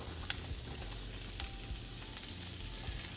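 Butter and flour roux cooking in a pan, a soft, steady sizzle and frying hiss with a single light clink near the start, close and quiet with no talking.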